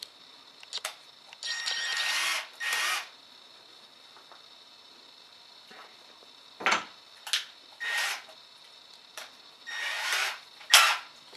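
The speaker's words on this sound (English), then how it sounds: "I'm going to use a number 29 drill and pretty much do the same thing." A number 29 drill bit bores a hole in a block for a swivel breech rifle project, heard as several short whirring and grinding bursts of varying length separated by pauses, fairly close and moderately loud.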